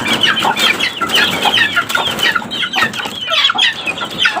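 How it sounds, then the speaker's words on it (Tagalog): Noisy clucking and peeping from a group of young white chicks that are growing large, a continuous busy chatter close by with no talk over it. "Ang ingay ng masadong sisiw."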